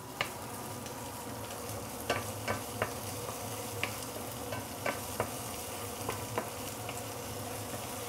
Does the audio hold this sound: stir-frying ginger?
yes